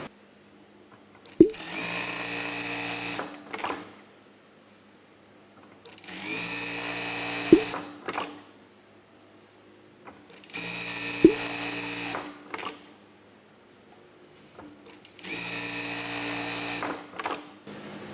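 A $2500 sewing machine runs in four separate stitching bursts of a few seconds each, its whirring pitch rising and falling as the speed changes, with a sharp click at the start of several runs and quiet gaps between.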